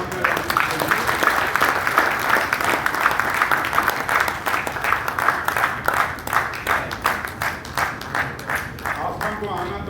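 Crowd at an Arts Council of Pakistan award event in Karachi applauding in a full, sustained burst of many hands, claps falling into a loose regular beat and easing slightly near the end, with speech heard alongside.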